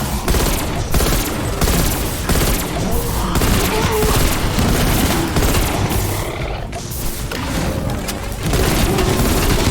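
Sustained loud automatic gunfire from a Tempest enemy in Call of Duty Cold War zombies, dense rapid shots and booms layered with game noise, continuous and close for the whole stretch.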